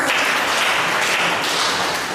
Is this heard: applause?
yes